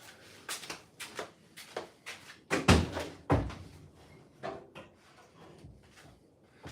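A 1972 Volkswagen Beetle project car's doors being worked: a string of knocks, clunks and latch clicks, with two heavier slams midway, close and fairly loud, no talking.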